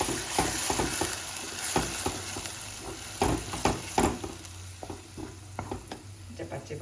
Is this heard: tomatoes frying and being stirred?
yes